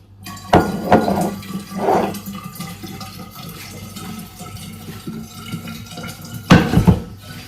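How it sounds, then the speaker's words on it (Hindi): Cold tap water runs into a container in a kitchen sink, a continuous close gush with a few louder clatters and splashes near the start and end, and no talk. "इसमें हम भर लेंगे थोड़ा सा ठंडा पानी"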